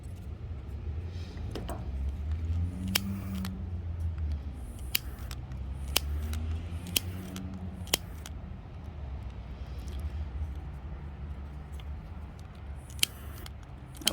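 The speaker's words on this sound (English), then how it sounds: "See if I can just trim this extra little piece off" Scissors trim a small piece off a napkin decoupage project, snipping in a series of sharp, close clicks spaced a second or so apart against a faint background hum.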